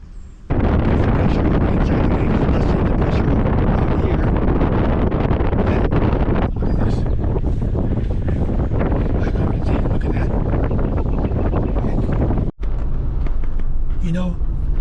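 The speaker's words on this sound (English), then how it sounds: "This wind right here, blowing these prayer rags and these leaves, is coming from that hole over there," Strong, steady wind gusting out of the Wind Cave entrance in South Dakota, flapping prayer rags and stirring leaves; loud continuous roaring buffeting of the microphone for most of the clip, with a brief break near the end.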